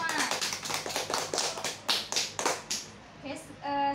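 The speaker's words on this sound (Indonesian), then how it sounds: "Tepuk tangan untuk kalian semua." Schoolchildren in a classroom clapping their hands together, a series of sharp, distinct claps in a quick rhythm that thins out, followed by children's voices.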